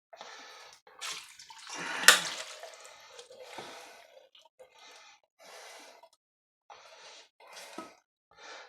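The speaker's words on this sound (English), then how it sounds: "Now I'm putting 2 cups of water in this." Water poured from a cup into a slow cooker holding a pot roast, splashing and trickling in several short bursts with quiet gaps between, close and fairly soft.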